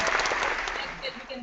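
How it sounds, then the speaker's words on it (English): An audience clapping along together, a steady wash of claps filling the short stretch before it thins toward the end, with a voice speaking over it. "Everybody clap. Everybody clap."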